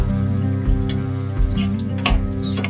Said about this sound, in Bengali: সমস্ত চিকেনটা ফ্রাই করে নেবে